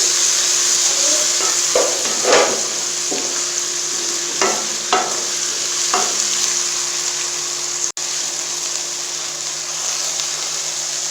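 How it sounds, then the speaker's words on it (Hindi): A spoon stirs browned onions and ginger garlic paste sizzling in a pan for a Pakistani fish curry, with a steady frying hiss and scattered scraping strokes close by, and nobody talks. "अदरक लहसुन के पेस्ट और प्याज़ों को करेंगे एक जान और मज़ेदार सा इनका पेस्ट सा बना लेंगे।"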